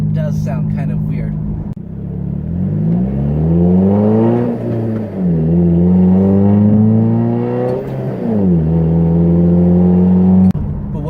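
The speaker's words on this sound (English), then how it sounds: "when you're accelerating, especially at high RPMs, it does sound kind of weird." A 2.4-liter four-cylinder American car engine revs hard at high RPM, its droning pitch climbing, dipping and climbing again in loud, close sweeps before cutting off near the end.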